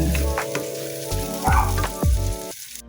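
Egg and bitter gourd fry in a pan with a close, bright sizzle, broken by a couple of scraping stirs and a low hum underneath, then cutting off abruptly at the end.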